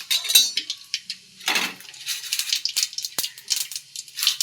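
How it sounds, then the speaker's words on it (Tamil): Mustard seeds splutter in hot oil in a kadai, sharp irregular pops and crackles coming in quick bursts, close and fairly loud, with occasional clinks against the metal pan. "கடுகு போட்டுக்கலாம். கடுகு நல்லா பொரியட்டும்."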